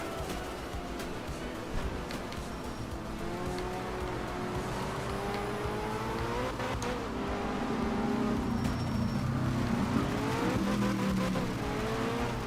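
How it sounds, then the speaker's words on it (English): Rally car engine in the racing game Art of Rally, revving steadily throughout with rising and falling pitch as the car shifts gears, a continuous buzzy drone sounding thin like a dirt bike, with no talk over it. "my car sounds like a fucking dirt bike apparently"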